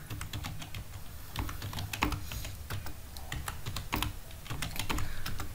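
Computer keyboard typing in Excel as state names are entered, a steady run of close, crisp key clicks with irregular rhythm and short pauses between words, no voices.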